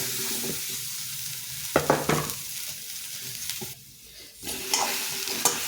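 Fresh okra dry-roasting in an empty pan, with repeated stirring scrapes and light rattling, a steady close texture broken by a few sharper bursts and a brief quieter lull.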